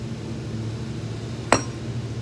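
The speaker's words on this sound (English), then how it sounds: "Let me try to hammer it one more time and see if it'll come off." A single sharp hammer blow strikes an old iPhone 6 while someone works a part loose, one loud metallic clink that stands out against a quiet room.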